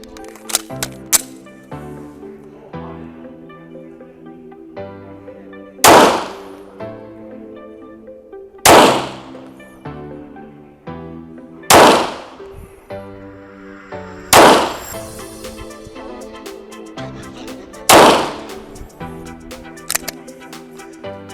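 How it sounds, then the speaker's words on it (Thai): Sig Sauer P226 TacOps pistol firing live FMJ rounds at a target about ten metres away, six loud, sharp reports spaced a few seconds apart, each with a short decaying echo, with faint clicks between shots. "ก็เดี๋ยวผมจะลองยิงเป้ามาตรฐานนะครับที่ระยะประมาณ 10 เมตรนะครับ"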